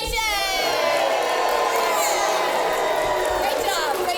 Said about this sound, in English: So when we see a hero, we cheer.